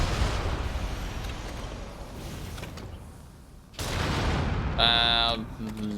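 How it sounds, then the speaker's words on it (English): Hand cannon shots in the action game Nioh 2, heavy booming blasts with a dense crackling rumble across the scene and a louder burst near the end, layered with game music tones. "so let's use hand cannon for them"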